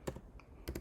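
Keys tapped on a computer keyboard while entering a command in a Linux terminal: a couple of quick clustered keystrokes, a pause, then a few more, close and fairly quiet.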